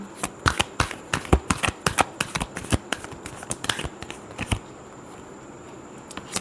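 Tarot cards being shuffled by hand close up, a quick run of crisp riffling clicks and flutters that thins out and stops partway through.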